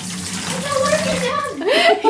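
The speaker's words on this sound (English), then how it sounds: "He's just giving his eyes a rinse." Water runs steadily from a tap while someone rinses their eyes, a close splashing rush with voices talking over it.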